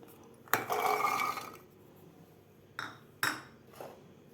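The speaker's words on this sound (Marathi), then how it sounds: "तर आपल्याला हे एका मिक्सरच्या भांड्यात घालायचे आहेत मटार" Fresh green peas tipped into a steel mixer grinder jar, giving a loud rattling clatter for about a second, followed by a few shorter clinks and knocks of the jar.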